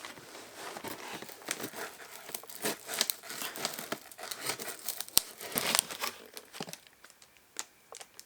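Scissors cut open a package: crinkling and tearing of packaging material, with irregular crisp snips and rustles close by, no talking.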